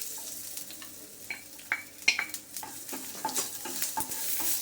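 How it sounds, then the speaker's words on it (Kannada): Ginger and green chilli fry with cumin on a low flame for spinach tambuli, giving a soft sizzle under scattered spoon scrapes and light clinks against the pan, close and fairly quiet, with no talk. "ಎಲ್ಲ ಲೋ ಫ್ಲೇಮಲ್ಲಿ ಹುರಿತಾ ಇದ್ದೀನಿ."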